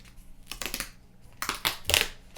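Someone peels open a tab on a OnePlus 6T phone box: soft crinkly tearing and crackling bursts come in several short pulls, close and quiet.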